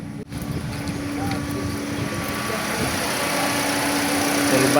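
A Toyota Vios engine idles at a steady RPM with no fluctuation, a continuous even hum close by that stays level throughout, with a faint constant whine over the top.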